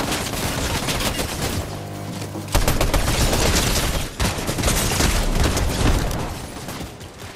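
Dense video game gunfire rattles through the stretch, sustained automatic bursts with heavy booms and brief pauses, loud and close, with no clear talk over it.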